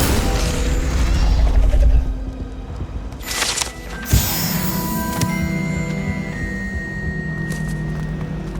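A whooshing fiery burst and crackling impact from the Incendio fire spell in Hogwarts Legacy, with a heavy boom early on, then sharp hits and lingering magical ringing tones fading out.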